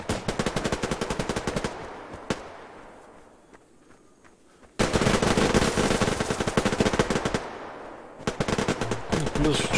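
Gunfire in the shooter game Survarium: rapid automatic bursts rattle loudly and close, fading into a quieter stretch before heavy firing resumes, with a voice faintly in the mix.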